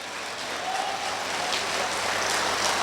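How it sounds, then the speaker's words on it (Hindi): Audience at an Urdu mushaira in Muscat applauding loudly, a dense, sustained roar of many hands clapping that swells slightly as it goes, filling the hall without pause. "अगर एक गजल और सुननी है तो जोरदार तालियों से आवाज दो।"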